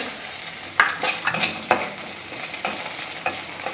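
Handful of peanuts tipped into potatoes frying in ghee, a sharp clatter followed by steady sizzling and stirring scrapes, close and fairly loud with no talking.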